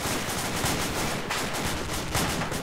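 Dense, continuous gunfire in the video game Insurgency during a night-time fight at a forward operating base, a steady clatter of shots with no break and no talk over it.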